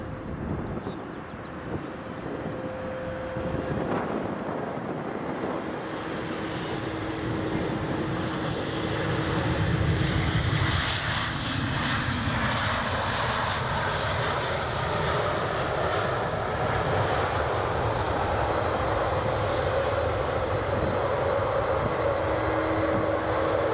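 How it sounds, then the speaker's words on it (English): A Turkish Airlines Airbus A321 from Istanbul passes at Edinburgh Airport, a broad roaring engine rumble that swells and holds loud across the whole stretch, heard outdoors with no talk. "here comes a Turkish Airlines A321 from Istanbul"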